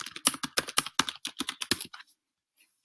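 Quick, crisp keystrokes rattle on a computer keyboard in an even burst of about a dozen taps, close and clear, then stop into near silence.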